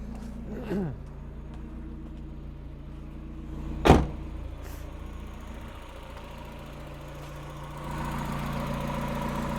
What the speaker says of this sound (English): The engine is ticking over smoothly.